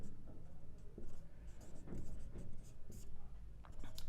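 A pen scratches across paper close up in short, uneven strokes and pauses, with faint background rustle.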